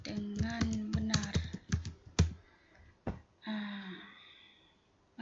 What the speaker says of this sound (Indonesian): pertama sekali kita harus mengetik data-data mereka biar mereka isi